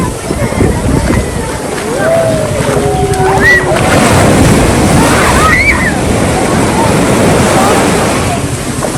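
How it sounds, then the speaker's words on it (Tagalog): Ocean waves at a beach in Nasugbu, Batangas wash and surge steadily in the background, with voices calling out in Filipino over the constant surf. "Ang ganda ng alon."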